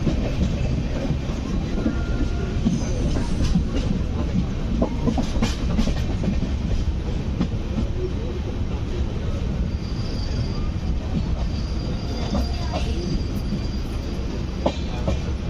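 Express train 12757 Kaghaznagar SF Express, running from Secunderabad to Mancherial near Kazipet, rumbles loudly and steadily along the rails with rhythmic clickety-clack of wheels and occasional squeals, continuous throughout.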